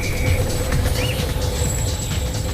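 A train rolls over coins laid on the rail, a loud, steady rumble of wheels and cars close by with a faint high squeal, and no voices.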